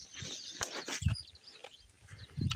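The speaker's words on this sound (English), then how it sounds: "There are some birds here." Birds calling outdoors in Africa, faint chirps scattered over a soft ambient background with a few low thumps, no talk.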